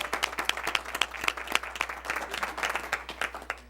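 A small audience at a school board meeting claps, the individual hand claps distinct and fairly close, forming an uneven but continuous round that stays lively to the end.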